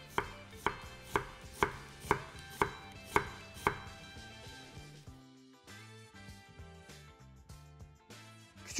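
A chef's knife chops onion on a cutting board with about nine crisp, evenly spaced strikes, then the chopping stops and a resonant ringing tone lingers.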